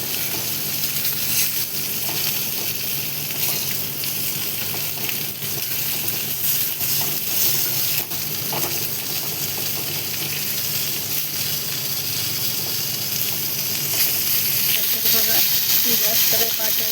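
Chilebi, a sweet-water fish, fries in a pan after being flipped, giving a loud, constant hiss and sizzle with occasional pops that runs unbroken throughout.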